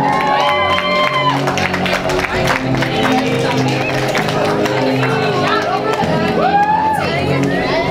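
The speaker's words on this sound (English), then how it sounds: "Applause for Vegar!" At an Elftopia costume contest, a festival crowd applauds and cheers loudly and steadily, with whoops and calls rising through the dense clapping.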